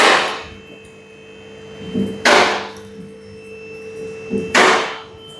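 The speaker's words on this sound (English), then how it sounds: "Just put the ratchet back together." A socket ratchet is pinned back together during a transmission oil change on a Nissan Navara D40, giving three sharp, close metallic knocks about two seconds apart over a faint steady hum.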